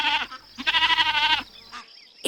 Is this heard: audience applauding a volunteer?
no